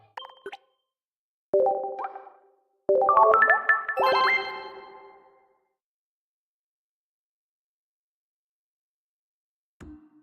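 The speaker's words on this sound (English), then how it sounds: "All right, sound the bells." Bells ring out to mark a viewer win, a few bright, chiming, tinkling tones struck in quick succession that ring briefly and fade into silence, with a faint short knock near the end.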